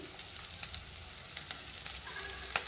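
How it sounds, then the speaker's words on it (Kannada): Ginger garlic paste sizzling as it goes into a pan of browning onions and green chillies, a quiet, steady frying hiss with a few soft crackles and no voices. "ಈಗ ನೋಡ್ರಿ ಸ್ವಲ್ಪ ಶುಂಠಿ ಬೆಳ್ಳುಳ್ಳಿ ಪೇಸ್ಟ್ ಹಾಕ್ತಾ ಇದ್ದೀನಿ"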